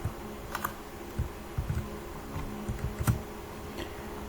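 Typing code on a computer keyboard, a steady run of close, crisp key clicks with irregular rhythm and occasional sharper taps.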